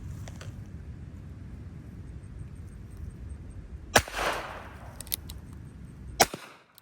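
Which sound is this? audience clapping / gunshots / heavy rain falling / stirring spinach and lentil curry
gunshots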